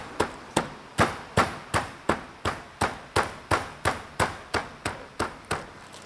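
Oreo cookies being crushed by repeated pounding, about eighteen sharp, evenly spaced hard strikes, loud and close with no talking.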